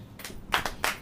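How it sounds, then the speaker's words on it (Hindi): A church congregation claps hands together in a short burst, several sharp rounds of clapping rising and falling close by, with no talk over it. "ताली बजाइए, ताली बजाइए।"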